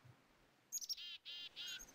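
A bird calls in Minecraft with a few quick high chirps followed by three longer whistled notes, fairly faint and alone without speech.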